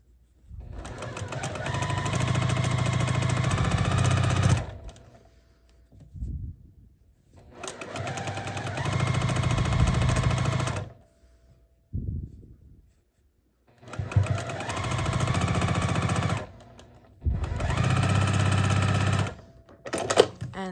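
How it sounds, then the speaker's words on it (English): A sewing machine stitches quilt block fabric for a churn dash quilt, running in four long, steady whirring bursts separated by pauses with faint handling sounds, close and alone without talking. "And I'm gonna sew here."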